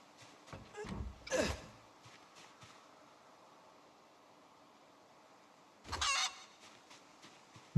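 Chickens let loose around a farmyard at a mansion give two separate bursts of loud clucking and squawking, the first near the start and the second a few seconds later, with quiet background between.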